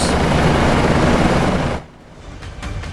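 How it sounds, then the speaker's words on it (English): Helicopter in a flight simulator game, likely an AS365 N2, a loud, close, continuous rotor and turbine roar that drops away sharply near the end, leaving a quieter rumble. "There's the helicopters."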